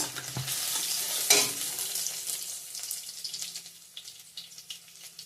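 Panch phoron spices go into hot oil already holding dried red chilli and bay leaf, a loud crackling burst near the start that settles into a fading, steady sizzle with a scrape or two.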